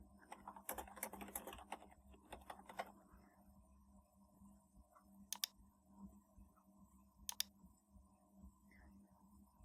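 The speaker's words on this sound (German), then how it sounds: "Ich kann tippen und ich kann auch mit der Maus sehr präzise arbeiten" Quiet typing on a computer keyboard at a treadmill desk: a faint cluster of soft key taps early on, then a few isolated sharp clicks over a low steady machine hum.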